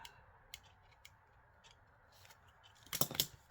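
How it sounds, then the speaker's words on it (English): Double-sided tape is peeled off its backing in a quiet room, faint ticks and small crackles leading to a louder ripping burst near the end. "I'm just going to peel the tape off"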